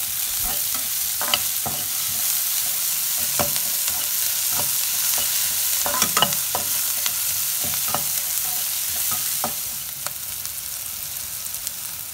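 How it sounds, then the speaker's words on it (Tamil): Onions sautéing in a pan as drumstick leaf egg poriyal is prepared, a soft continuous sizzle broken by repeated scraping and clacking stirs of a spatula, close and without talk. "இப்போ வெங்காயம் நல்லா வதங்கிருச்சு"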